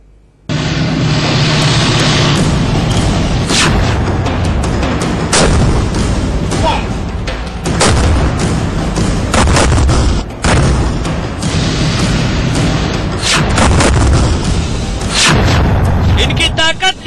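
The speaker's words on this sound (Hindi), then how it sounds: "सेना ने अपने सबसे ताकतवर टैंकों से गोले दागे, मिसाइलें छोड़ी और सैकड़ों राउंड फायरिंग की।" Army tanks firing shells, missiles and hundreds of rounds in a military exercise: loud, continuous barrage of booms and gunfire with heavy rumble, sharp blasts recurring throughout and aircraft-like roar underneath.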